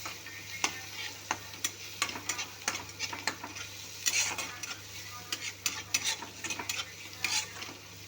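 Onions with turmeric fry in a pan while a spoon stirs them, producing a series of sharp, rhythmic scraping strokes over a low, continuous sizzle.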